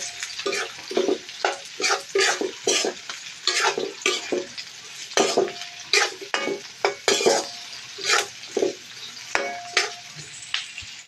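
Carrots are stir-fried for sweet and sour tilapia: a steady sizzle with repeated scraping strokes of a utensil against the pan in an uneven rhythm, close and alone for about eleven seconds.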